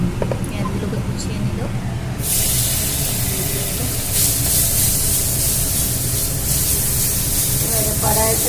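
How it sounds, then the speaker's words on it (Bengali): Onions fry in a pan with a loud, continuous broad hiss that swells suddenly after a moment and then holds steady, while people talk throughout. "পেঁয়াজ ভাজা হচ্ছে"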